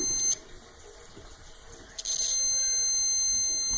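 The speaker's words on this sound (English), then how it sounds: "you can hear a beep" An electrical tester gives a continuity beep as its two leads touch while a 2004 Honda Odyssey driver's-side power lock fault is checked. A quiet hum gives way midway to a steady high-pitched tone that holds to the end.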